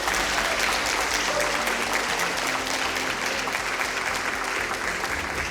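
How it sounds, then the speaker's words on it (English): Continuous applause honouring matric graduates at a school gala awards event, an even wash of clapping from a gathered crowd sustained throughout without a break. "we really, really want to once again applaud you"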